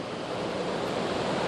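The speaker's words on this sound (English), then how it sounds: "So this is Bridal Veil Falls." Bridal Veil Falls near Valdez, Alaska gives a steady, broad roar of falling water, loud and continuous with a faint wind-like hiss and no voices.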